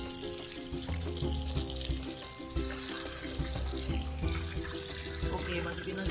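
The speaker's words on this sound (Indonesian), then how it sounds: "kita cuci dulu" Tap water pours steadily into a sink as toy animals such as a crocodile and a camel are rinsed. The constant running splash sits under faint background music and a voice.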